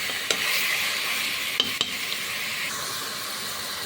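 Beef head meat sizzling and frying in a pan for a meat tagine, a steady close hiss punctuated by a few sharp clanks of a utensil stirring against the metal.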